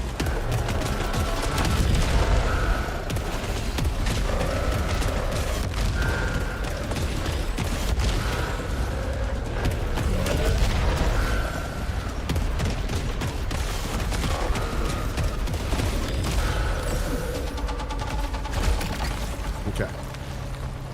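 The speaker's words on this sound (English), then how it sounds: "Oh, that's a lot of turrets." Turrets firing in the video game Saros, a dense continuous barrage of rapid mechanical shots and booms layered with electronic game tones, loud and sustained throughout, with speech mixed in.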